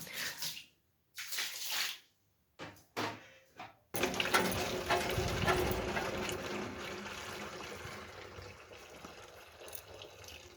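Floor in front of a home being swept and washed with water: after a few seconds of scattered short scrapes, a steady wet splashing and scrubbing wash starts and carries on loudly and evenly to the end.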